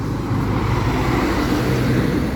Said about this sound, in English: And you can hear this traffic at night time